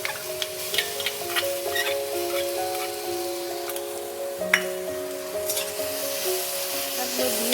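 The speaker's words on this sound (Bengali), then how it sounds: "দিয়ে আমি সয়াবিনটাকে ভালো করে একটু কষিয়ে নেব" Spices and soya chunks fry in a pan with a steady, moderate sizzle, broken by a few brief clicks of stirring. A continuous tonal hum runs underneath, and no one speaks.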